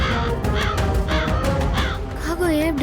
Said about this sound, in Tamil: காக்கா ஏன் இப்படி கத்துது?